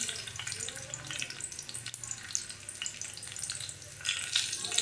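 Garlic hits hot oil for a methi bhaji, giving a bright, dense sizzle that runs steadily up close, with faint clatter and a brief rise in crackle near the end.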